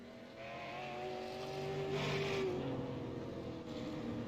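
Super Late Model race car engine droning on the Oxford oval track, a steady near roar with harmonic whine rising and falling through the full stretch, no talk over it.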